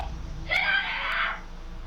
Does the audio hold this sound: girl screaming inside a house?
yes